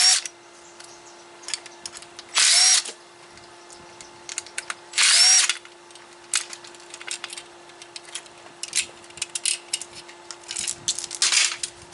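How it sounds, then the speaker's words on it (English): Power driver backing Phillips screws out of the door of a 2011-2016 first-generation (J300) Chevy Cruze during window regulator replacement: two loud, steady whirring bursts of under a second each, then lighter, scattered handling clatter and a few shorter buzzes. "I'm using Phillips number 3 to remove the screws."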